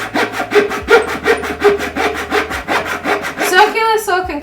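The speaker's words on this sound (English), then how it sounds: "I think I'm going to stick with my hacksaw." A hacksaw cuts through wood in quick, even back-and-forth strokes, close and loud, with a rasping edge on each pass before the blade slows at the end.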